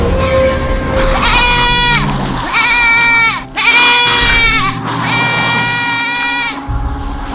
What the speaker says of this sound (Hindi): एक बकरी घूमती हुई गुफा के अंदर आ गई है